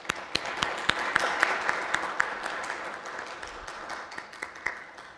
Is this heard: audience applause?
yes